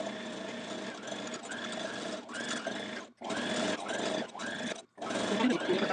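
Sewing machine stitching a dress belt band in rapid steady bursts, stopping briefly twice between runs, close and fairly loud.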